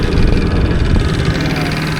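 A small boat motor runs on a lake crossing to an island in Uganda, a steady, loud, close engine drone with a low rumbling throb and no clear start.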